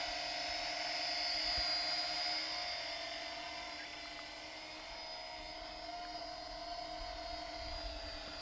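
A cheap drone carrying a GoPro hovers with a steady high-pitched motor whine and propeller buzz, straining and sagging in altitude, continuous and fairly close with no talking.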